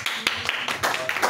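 Congregation clapping in praise during a French-language church service, a few sharp, uneven claps over about a second with a voice murmuring beneath.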